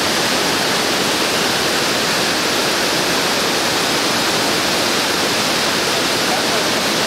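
The Quetzalapan waterfall, fed partly by the Chignahuapan lagoon, pours with a dense, continuous roar of rushing water, broad and steady without pause, loud and close.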